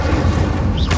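An Incendio fire spell cast in Hogwarts Legacy bursts out as a loud, dense boom with a roaring crackle over rumbling combat noise, ending in a short whooshing flare.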